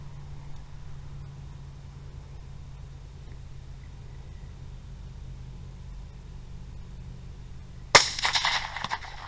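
A single sharp rifle shot during a thermal hog hunt at night, loud and sudden after a long stretch of quiet hiss, with brief rumbling echo trailing off.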